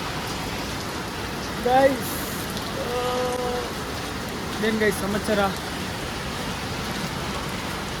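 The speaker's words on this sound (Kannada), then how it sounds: "ಮಳೆ ನೋಡ್ರಿ, ಮಳೆ ಎಷ್ಟು ಜೋರಾಗಿ ಬರ್ತೈತೆ" Heavy rain pours in a steady, dense hiss throughout, while someone talks briefly over it.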